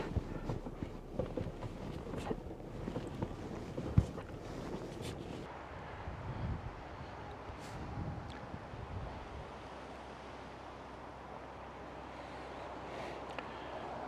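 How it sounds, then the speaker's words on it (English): Wind blows at a mountain camp spot, a steady rushing roar with gusty buffeting on the microphone, loudest early on and then settling into a lower continuous rumble. "This camp spot's still a little windy"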